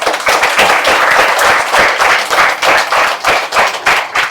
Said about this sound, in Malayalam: അപ്പൊ ജാനിക്ക് നല്ലൊരു ക്ലാപ്പ് കൊടുക്കും